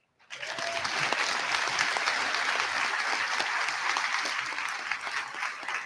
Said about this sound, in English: please join us in applauding the parents, guardians, grandparents, and family members who help make them the wonderful people that they are.